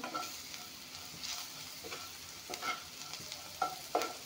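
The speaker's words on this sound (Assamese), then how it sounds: "এতিয়া এইখিনি ভাজি ল'লোঁ" Boiled green peas and carrots fry in a pan, a soft, steady sizzle punctuated by several spatula scrapes and taps as the vegetables are stirred, quiet and close.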